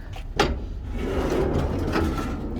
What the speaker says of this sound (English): So we do have a drawer that comes out there as well.